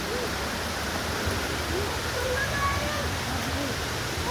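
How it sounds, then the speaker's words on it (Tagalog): Steady rushing splash of a waterfall at Three Falls, Santa Maria, Laguna, a constant faint hiss of falling water with a few soft bird calls over it. "Pagaspas ng tubig pa rin ang naririnig natin."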